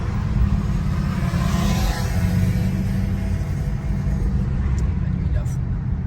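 A powerful car accelerating hard at full throttle, a loud, sustained engine roar heard steadily throughout from inside or close by, with people talking over it.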